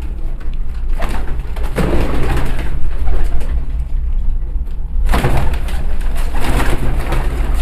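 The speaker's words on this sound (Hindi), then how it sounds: "तो ये बाहर फैंसी कबूतर है इनके पास।" Fancy pigeons coo in soft repeated phrases nearby, set against a steady low hum, with a couple of dull thumps in between.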